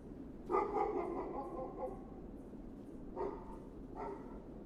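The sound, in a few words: dog barking in a horror video game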